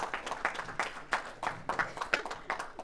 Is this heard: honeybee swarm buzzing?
no